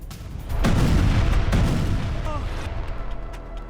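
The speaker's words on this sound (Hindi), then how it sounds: "हिजबुल्लाह मुख्यालय पर F-35 से ये बम गिराए गए हैं" Bombs dropped by an Israeli F-35 strike on Hezbollah's headquarters in Dahiya, Lebanon, detonate in a heavy, booming burst followed by a second blast, with rumbling debris that slowly fades away.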